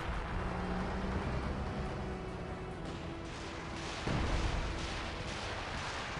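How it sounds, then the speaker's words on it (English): Artillery barrage in Company of Heroes 2, a continuous dense rumble of distant shelling with a louder heavy impact partway through, steady and unbroken throughout. "Sufu's coming in for a barrage"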